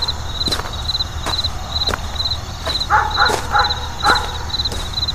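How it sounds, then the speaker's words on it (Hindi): Dogs barking and yipping somewhere down a dusty street at midnight, a few short barks in a cluster partway through over a steady background hum and periodic sharp taps. "कहीं कहीं कुत्तों के भौंकने की आवाज सुनाई दे रही थी।"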